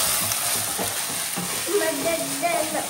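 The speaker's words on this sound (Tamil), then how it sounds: "இதில் இஞ்சி பூண்டு பேஸ்ட் வந்து சேர்த்துக்கிறேன்" Onion frying with ginger garlic paste in a pan, a continuous close sizzle with faint stirring, and no talk.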